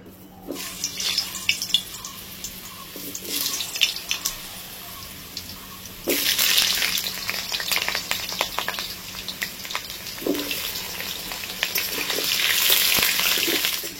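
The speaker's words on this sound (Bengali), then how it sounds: "দেখো তেলটা পুরো গরম হয়ে গেছে, এইবার আলুগুলোকে ছেড়ে দিই।" Potato pieces frying in hot oil for a Bengali festive thali make a steady, close broadband sizzle that swells louder after the pieces go in around the middle and keeps bubbling to the end.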